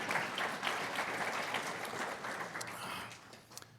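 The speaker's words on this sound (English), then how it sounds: "Huge roar of applause from the crowd." Applause and a roar from a crowd at an event at the Lawrence Tech School of Architecture in Southfield, a dense steady wash of clapping that holds for several seconds and thins slightly toward the end.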